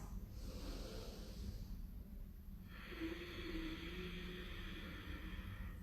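Slow breathing during a yoga practice, a soft breath in then a longer, airy exhale, close and quiet with steady low room noise underneath.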